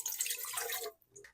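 Water pours into a pan while making carolinas (choux pastry) for Christmas, a brief close splashing stream about a second long that cuts off, followed by a faint drip.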